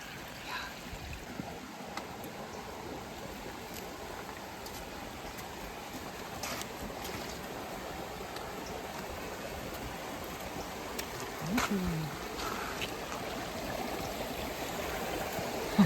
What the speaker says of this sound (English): This trail, it follows alongside the creek, but we're typically so far away from it that we can't see it. We can hear it.